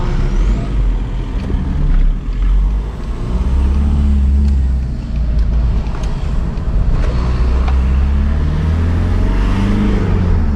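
Volkswagen MK4 TDI wagon diesel engine on the road, a steady low drone with road and cabin rumble under load throughout, no talking.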